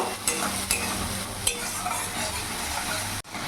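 Spice masala for a silver carp fish curry sizzles steadily in hot oil while being stirred, with scraping strokes of a spoon against the pan recurring near and loud throughout, briefly cut off near the end.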